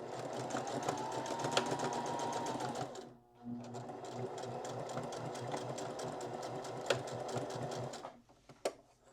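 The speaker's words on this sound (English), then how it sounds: "So I'm going to take that over to the sewing machine and show you how I'm doing that." Sewing machine stitching along the previous stitches of a dog bandana sewn from men's shirts, a steady fast mechanical whir running alone, pausing briefly near the middle and stopping toward the end.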